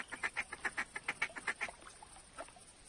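Ducks in theHunter hunting game quack in a quick rhythmic series of honking calls, fairly faint, then a few scattered calls as the sequence tails off.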